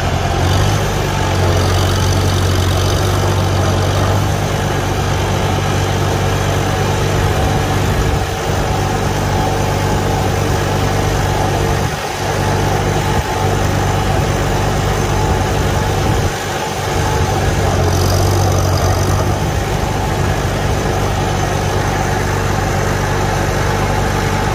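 A 1949 Farmall Super A tractor engine runs in third gear with the Culti-Vision setup, a loud, steady mechanical drone close by with a continuous low rumble and only slight dips in level.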